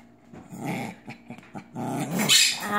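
A small female dog growls in playful bursts while tugging at her toy, close and fairly loud, the rumbling rising into a sharper snarl near the end.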